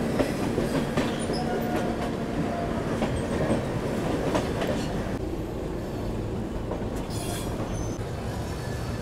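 Kashi Vishwanath Express, a passenger train, rolls steadily along the rails at Lucknow Charbagh railway station at night, with a continuous loud rumble, faint wheel clatter and a brief high squeal partway through.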